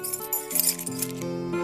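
A bunch of keys is handed over with a few bright metallic jingles and clinks, brief and close, over a steady musical background.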